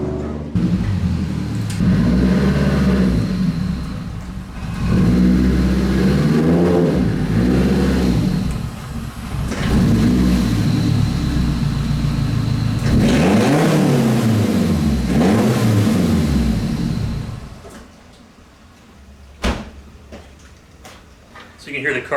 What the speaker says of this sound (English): you can hear the car died right there at the end as I was revving it